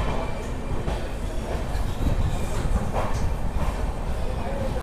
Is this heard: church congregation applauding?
no